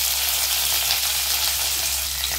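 Sliced small onions and curry leaves fry in oil in a silver pan, a steady close sizzle with no talking.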